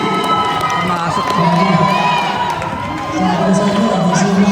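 Basketball crowd at an NBL game between Berkeley and Red Robins, shouting and cheering loudly and continuously, with a dense roar of many voices and children's yells, swelling slightly midway.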